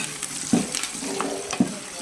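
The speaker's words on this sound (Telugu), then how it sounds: "పచ్చిమిర్చి, ఇలాచి, యాలకులు, స్టార్ పువ్వు చక్కగా అన్నీ వేగుతాయి" Green chillies, cardamom and star anise fry in a pan for a chicken curry. A soft, steady sizzle runs throughout, with a few light stirring scrapes of the spoon and no talking.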